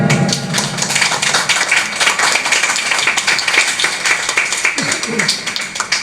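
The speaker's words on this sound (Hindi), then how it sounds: "अगर आप नहीं सोए तो परमेश्वर के लिए ताली बजा लीजिए" Church congregation claps during a sermon, a lively burst of scattered, close hand claps and taps mixed with voices.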